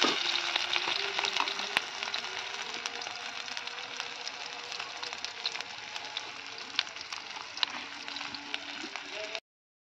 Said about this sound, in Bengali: তো পেঁয়াজটা একটু লাল লাল করে ভেজে নেব